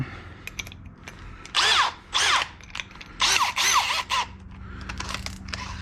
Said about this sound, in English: drill holes for the pegs on the fender to slide up through